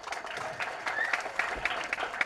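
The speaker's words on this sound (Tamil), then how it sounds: "ஒரு பெரிய கைத்தட்டல்" Audience applause at a film trailer launch event, a steady wash of clapping from a crowd that holds at an even level throughout.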